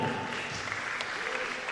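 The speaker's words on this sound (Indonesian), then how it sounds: "Yang sebelah sini boleh tepuk tangan juga." Audience applause at a Halal Bihalal family gathering of a school community, a steady, dense wash of clapping from a sizeable crowd, fairly distant and even, with no break across the short stretch.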